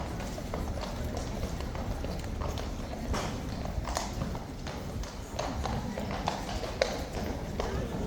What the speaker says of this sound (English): I like how the horses never seem to fight as to who gets through the gates first.